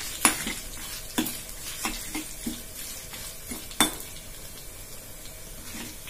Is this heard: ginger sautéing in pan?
yes